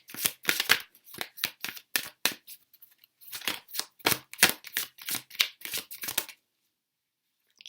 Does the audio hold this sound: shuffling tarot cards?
yes